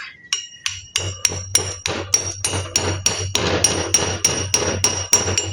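A hammer taps a socket to press an engine valve seal into place, giving a close, steady series of about fifteen sharp metallic strikes with ringing overtones.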